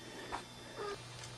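A couple of short cat meows from pet kitties indoors, faint and fairly near, over a steady low hum with no talking.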